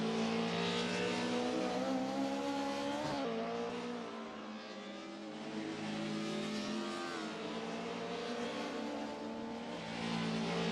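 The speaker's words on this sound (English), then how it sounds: "I think it's actually just the sound of the engine off the throttle when he's braking," A race car engine in a racing video game at Hockenheim, shown off the throttle under braking with a sustained harmonic drone that dips in pitch and volume midway, then rises again with faint tire noise.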